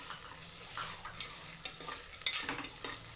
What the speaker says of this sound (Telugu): దాన్ని కొంచెం ఫ్రై అవ్వనివ్వాలి.